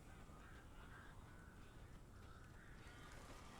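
Crows caw steadily through a dense, noisy outdoor ambience in the video game Alan Wake Remastered, the calls repeating without pause for a few seconds with no talking.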